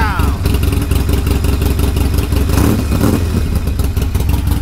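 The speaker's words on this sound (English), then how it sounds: "let's go ahead and start this baby up." A Harley-Davidson Iron 1200 Sportster with a fresh Antigravity lithium-ion battery turns over and fires, then settles into a loud, close, lumpy idle with a clattering rumble, and a voice speaks briefly over it.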